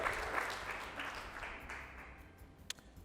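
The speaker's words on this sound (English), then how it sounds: "So I'd like us to just applaud KEPSA for the work that they are doing" A conference audience at a national petroleum event applauds, producing faint, fairly distant clapping that gradually fades away, with one sharper clap near the end.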